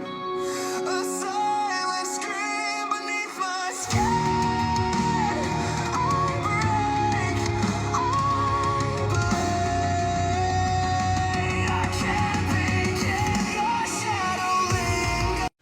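An AI-generated heartfelt metalcore song starts with a sparse, softer intro, then crashes into a full distorted band with sung vocals and driving drums.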